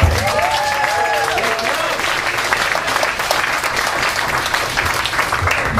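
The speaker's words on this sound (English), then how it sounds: "Please stop clapping" Audience clapping for a stand-up comedian at a comedy show, a dense, steady wash of loud applause with a few whoops and cheers rising over it early on.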